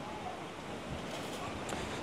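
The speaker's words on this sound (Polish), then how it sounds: "Straszne w ogóle dzisiaj są fale i przypływ." Ocean waves at high tide wash onto a beach at Khao Lak, a steady broadband roar of surf mixed with wind buffeting the microphone, continuous and fairly close throughout.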